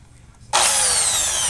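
A power drill, a prized gift from a father, is used for rethreading a nut. The motor snaps on abruptly and holds a loud, steady high-pitched whine at close range with no talking.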